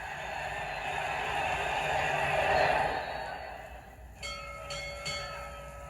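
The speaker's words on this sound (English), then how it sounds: "There's the bell." At a boxing match, a round bell rings out near the end, a few sharp clangs with lingering tones, following a roaring crowd.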